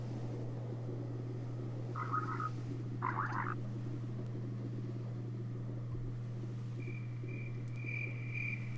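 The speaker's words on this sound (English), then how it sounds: "so as you can hear there's crickets" Minecraft night ambience with the MAtmos mod: a few short cricket chirp bursts, then thinner high chirping, over a constant low hum and soft background wash.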